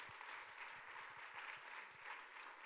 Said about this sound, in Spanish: ¿Alguien quiere aplaudirle a Dios en esta tarde?